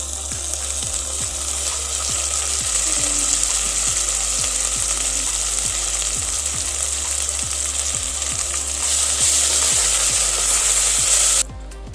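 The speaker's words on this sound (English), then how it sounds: "In this stage, I am adding 2 spoons of ginger and garlic paste." Ginger garlic paste sizzles steadily in a hot oily pan while mushroom biryani is cooked, a loud continuous frying hiss with regular soft scraping strokes of stirring, close up and with no talk.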